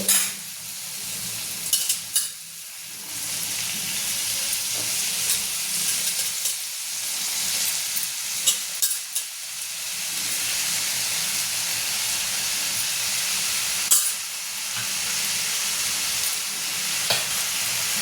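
Spring onion greens fry in a hot pan for a dry Maharashtrian kanda pat dish, with a steady sizzle and hiss under occasional scraping stirs and clinks, close and continuous with no talk.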